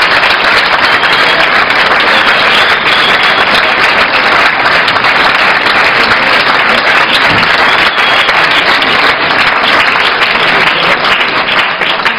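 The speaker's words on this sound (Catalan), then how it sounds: "gran ovació, sisplau, per aquestes corals i pels seus directors." Audience at an autumn choir gathering in Valls applauds the choirs and their directors, dense sustained clapping filling the hall, loud and continuous without a break.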